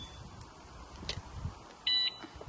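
A Rockbros electric bike horn alarm sounds one short, loud, piercing electronic beep burst of about a quarter second, standing out sharply above a faint rustling background.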